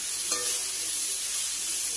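Potatoes and bitter gourd frying in a pan with nigella seed tempering, a steady close sizzle with a brief stirring scrape near the start, no voices.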